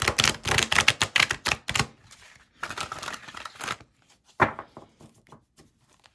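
Transparent tarot cards, slightly warped, being riffle shuffled close up: a rapid burst of crisp fluttering clicks, a pause, a shorter riffle, then a few scattered taps as the deck is squared.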